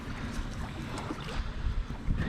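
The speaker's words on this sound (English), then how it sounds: "it's windy" Gusty wind buffets a microphone outdoors near a boat dock, a steady rough rumble with loud bursts and no speech.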